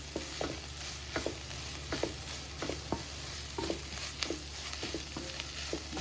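Masala being stirred into a beetroot fry in a pan: a steady sizzle with repeated scraping strokes, about one every half second, close by, with no talk.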